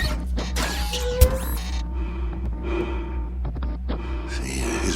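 Heavy, mechanical-sounding breathing from an activated robot-like figure in a radio drama, rasping gasps and snorts mixed with creaks and whirring effects over a low steady hum.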